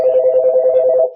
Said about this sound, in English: Sorry for that phone ringing.